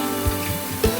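A splash of water hits onion, ginger and garlic paste frying in a pan, bringing a brief steady sizzle with a couple of soft stirring knocks, close and moderately loud, without talk.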